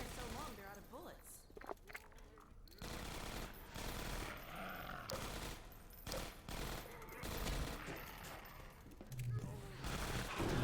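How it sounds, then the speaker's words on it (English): Automated gun turrets in Half-Life 2 Episode One fire in scattered rapid bursts, mixed with footsteps and other game sounds, while a voice talks over the action. "I hear turrets"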